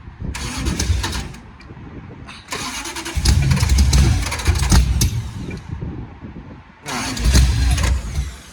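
A long-travel rat rod sand truck engine cranks and catches in three separate attempts, each a loud, rough burst of mid-pitched engine noise that runs for a few seconds before cutting out.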